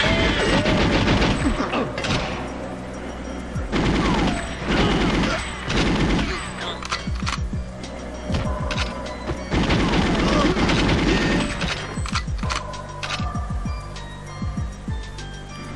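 Gunfire in the shooter game GoldenEye 007: repeated bursts of shots and impacts in clusters across the clip, loud and close, with a voice talking over parts of it.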